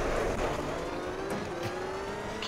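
Rally car engine in Richard Burns Rally, a steady held drone with a rising tonal whine and a couple of brief sharper bursts, loud and close with no voices.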